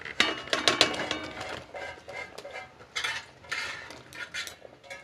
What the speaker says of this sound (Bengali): ঝোলটা একদম ফুটে গেছে, আমি এবার ভেজে রাখা পনিরগুলোকে দিয়ে দেব।